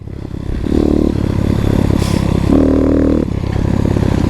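An X-Pro Titan motorcycle's exhaust roars close and loud in a steady, throaty drone, with two swelling revs as the rider pushes the bike across sand.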